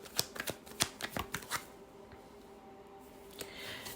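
Tarot cards are shuffled up close in a quick burst of crisp riffling snaps and taps during the first couple of seconds, followed by quieter soft handling in a hushed room.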